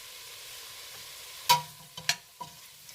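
Food sizzles softly as it cooks in a pot for Jamaican tripe with butter beans. A steady low frying hiss runs throughout, broken by a few sharp, close clacks of a utensil against the pot.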